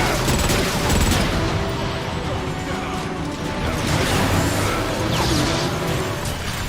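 Sniper gunfire in a Transformers shooter game, with sharp cracks scattered through a dense, busy battle soundscape of mechanical clanks and rumbling.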